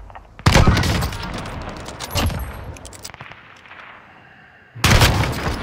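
Video game gunfire on the Caldera map: rapid, heavy volleys of shots and blasts, loud and close, easing into a quieter stretch before another loud burst of fire.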